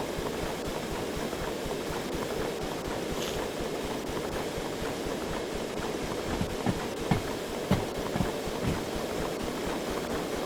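A locomotive rolling on rails in the Derail Valley simulation game, a continuous low rumbling drone with faint rhythmic clanks from wheels over track joints, steady and moderately quiet, without talk.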